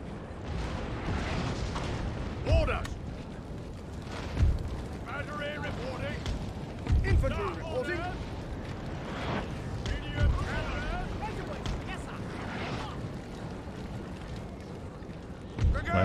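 Heavy booming cannon fire in the video game Napoleon: Total War, with several loud blasts spaced a few seconds apart over a dense rumble of battle noise and talk.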